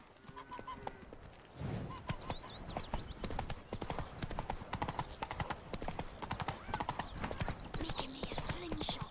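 Roach the horse galloping in The Witcher 3, rapid rhythmic hoofbeats pounding continuously at close range, with a brief whinny near the start and faint bird calls in the background.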